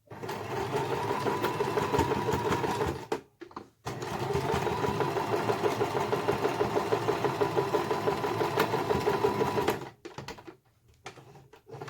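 A sewing machine stitches a seam on a fabric Easter bunny, running steadily for about three seconds, pausing briefly, then whirring on for several more seconds before stopping.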